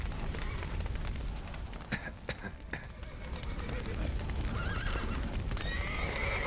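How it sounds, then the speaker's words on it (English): Horses in The Witcher 3 video game neigh and whinny loudly over a steady rumble, with hooves clip-clopping and a few sharp knocks partway through, all close and busy. "These horses are going nuts."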